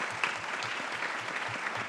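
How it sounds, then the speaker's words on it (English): Steady, dense applause from an audience at a legislative breakfast with the Governor of New York, filling the whole moment without a break. "So let's give another round of applause to Hazel Dukes."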